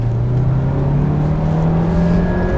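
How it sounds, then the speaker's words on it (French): A 2022 Renault Captur accelerates, its engine a loud, steady drone heard from inside with the pitch rising gradually and no talk over it. "Parce que regarde, j'appuie dedans, il n'y a rien qui se passe. Et là ça accélère."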